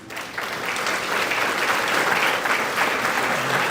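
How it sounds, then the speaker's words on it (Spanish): A church congregation at a Catholic Gospel service claps together in a sustained, even wash of applause from many hands that lasts several seconds at a steady loudness, with no voices on top. "Vamos a dar un aplauso a los que ya la leyeron."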